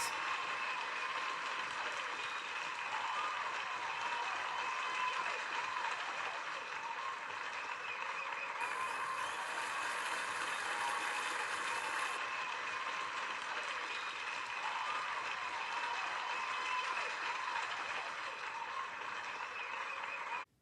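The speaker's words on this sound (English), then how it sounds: "The cheering and clapping died away." A crowd cheers and claps in celebration of two hundred-year-old steam engines, a steady wash of applause held at even loudness from start to finish, with no clear voices.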